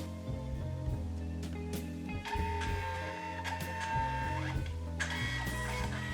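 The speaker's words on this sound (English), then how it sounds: "I start the stopwatch when the printing starts." A Canon Selphy QX-20 compact photo printer printing a photo, close and quiet, with layered motor whirs, clicks and tonal mechanical hums that shift through several stages as the paper feeds.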